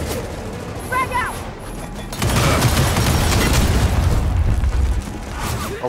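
A frag grenade blast in Gears of War 4 gameplay, a loud sustained boom erupting about two seconds in amid heavy gunfire, with shouting voices earlier and crackling combat noise continuing after.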